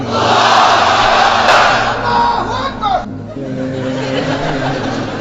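A large crowd at an outdoor Islamic sermon gathering roars a loud chant of takbir in unison, a dense surging wall of voices that swells, then fades into scattered crowd noise.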